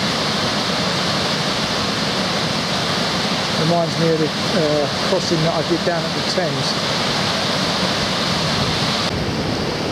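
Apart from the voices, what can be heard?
water rushing through river sluice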